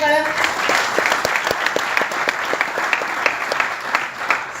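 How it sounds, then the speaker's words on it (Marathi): A crowd at a company gathering gives hearty applause for a staff member, steady rapid clapping from many hands close by, running the whole time alongside voices. "सागर सरांसाठी एकदा जोरदार टाळ्या"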